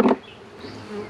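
Honey bees buzz around a hive during a nectar flow, a brief louder burst right at the start followed by a faint, steady insect hum.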